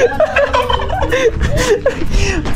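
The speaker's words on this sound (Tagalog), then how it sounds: "Yan po yung pinakamalalaking pabo." Several large turkeys, about 25 kilos, gobble in rapid, overlapping bursts close by, their warbling calls tumbling over one another with a few scuffling noises underneath.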